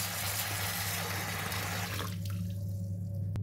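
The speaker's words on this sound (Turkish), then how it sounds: "Mısırlarımı soğuk sudan, konserve mısırlarımı soğuk sudan şöyle geçiriyorum." Canned corn rinsed in a strainer under cold running water from a tap, a steady close hiss and splash of flowing water that cuts off near the end, leaving a low background hum.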